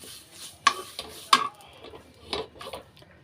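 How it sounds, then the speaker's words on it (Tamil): Fresh curry leaves frying in a pan, stirred with a metal spoon that scrapes and taps against the pan in several separate bursts over a soft sizzle. "நல்லா ஃப்ரெஷ்ஷான கருவேப்பிலையாக அதையும் நல்லா வறுத்துக்கலாம்"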